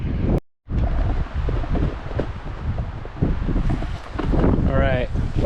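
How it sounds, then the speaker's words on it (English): Cold wind buffeting a microphone on a ski slope in harsh conditions, a steady loud roar with gusts throughout, briefly cutting out near the start. "fighting cold wind, crappy conditions"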